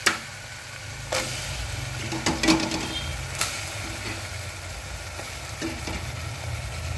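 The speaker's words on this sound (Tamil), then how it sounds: "இந்த டைமில் நம்ம கழுவி வச்ச கறியை வந்து நான் சேர்த்துக்கிறேன்" Washed mutton drops into ginger and garlic frying in oil: a sharp thump at the start, then a steady sizzle with scattered spoon scrapes and clinks at close range, without any voices.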